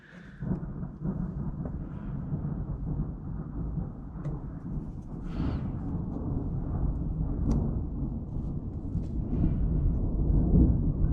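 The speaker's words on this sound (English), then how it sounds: "Good storm tonight." Thunderstorm outside a garage workshop at night: a continuous low rumbling roar of thunder and heavy rain with a few brief crackles, swelling louder toward the end, no voices.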